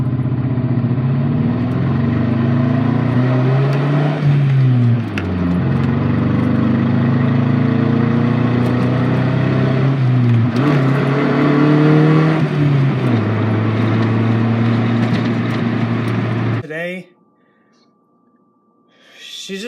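A 1.5L Honda Del Sol engine running rough at idle, a loud close drone with uneven wavering pulses and stumbles throughout, cutting off near the end into near quiet.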